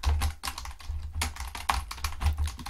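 Continuous typing on a computer keyboard, entering text into a text box, with dense rapid clicking keystrokes close to the microphone throughout the short stretch with no voices.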